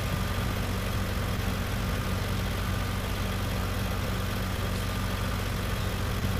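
A tractor engine runs steadily while cultivating a field with a new disc harrow, a constant loud low drone with mechanical rumble throughout and no voices.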